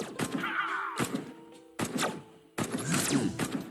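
Sniper rifle shots in the video game Iron Marines Invasion, with about four sharp, punchy reports spaced irregularly and each trailing into a short decay, loud and close, with game effects between them.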